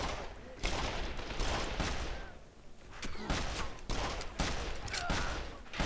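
Gunfire in the Call of Juarez: The Cartel video game, a burst of shots blasting open a lock, heard as a dense run of sharp reports with brief lulls, loud and close.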